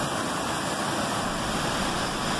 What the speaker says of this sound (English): are actually a series of artificial waterfalls on the Rideau River in Ottawa